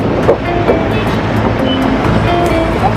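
A train rumbles past close by at a railway crossing in Bekasi, Indonesia, loud and continuous, with faint rhythmic clacking of wheels over the rails.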